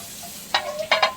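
Water flicked onto a hot iron dosa griddle hisses in three short sizzling bursts, the first single and the last two close together, fading between them.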